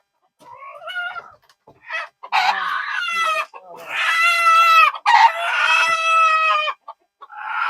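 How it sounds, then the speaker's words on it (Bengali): Hens and roosters in a coop in Dubai: close, loud bursts of clucking and squawking, with a rooster crowing in drawn-out calls, separated by brief quiet gaps. "এখানে কিন্তু সব মুরগি বসে আছে, মোরগও আছে"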